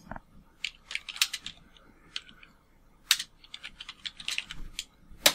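Quick, irregular clatter of a computer keyboard as a search query is typed into a Firefox browser, close and clear with brief pauses between bursts of keystrokes.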